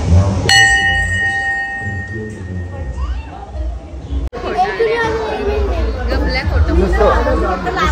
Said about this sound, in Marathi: बेल वाजवत